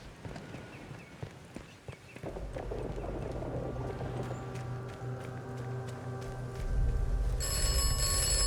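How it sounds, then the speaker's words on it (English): A telephone rings in the video game Atomfall, its bright repeated electronic trill rising over a busy bed of game sounds with footstep-like knocks and thuds, growing louder toward the end. "Of course the phone rings again."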